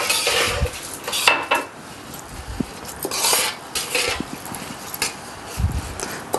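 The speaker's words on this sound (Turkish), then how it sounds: "Karıştırma işlemi yapayım ben bu arada." A spoon stirs food in a cooking pot while Bitlis-style Kurdish stuffed vegetables and tomato soup are made, giving repeated metallic scrapes and clinks at close range in an irregular rhythm.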